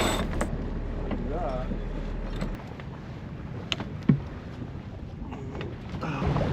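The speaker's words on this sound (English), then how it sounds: "Full sails, engine off." Sailboat under full sails with the Genoa unfurled, engine off, making about 4.5 knots off the Florida coast in the ocean; steady wind and water wash with creaks and clicks of rigging and lines, a voice briefly heard.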